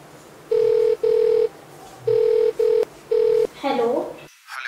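A phone call rings out with repeated steady tone bursts in paired beeps and short gaps, loud and close, followed by a brief voice-like sound before it cuts off.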